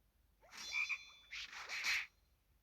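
A frog croaks in a match-3 video game, two or three close, raspy croaking calls in quick succession, loud and clear with no talking over them.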